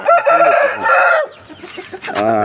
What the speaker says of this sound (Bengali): ওই যে লাখা মোরগ বলে